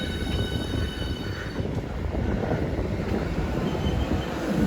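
A train running along the rail line in the London area, heard from on board as a loud, continuous low rumble and rattle with wind noise and a faint high whine.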